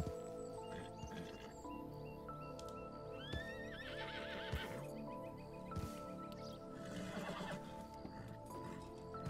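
Horse in the Red Dead Online video game whinnies several times over steady clip-clopping hooves, with a layered game soundscape underneath and no talking.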